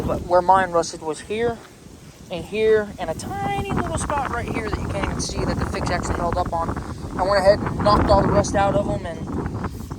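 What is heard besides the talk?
wind blowing into microphone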